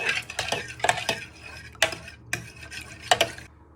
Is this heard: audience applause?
no